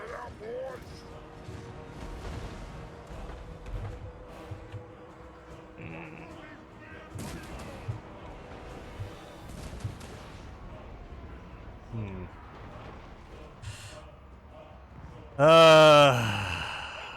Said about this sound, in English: I'm moving my artillery over here so they can shoot in.